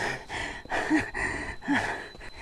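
Heavy, ragged breathing after a walk, with a few sharp gasping inhales, close and fairly quiet, in uneven rhythm.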